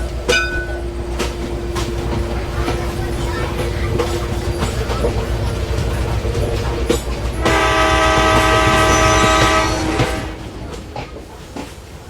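A Vande Bharat train runs with a steady loud rumble, then its horn sounds, one long harmonic blast held for about two seconds near the end.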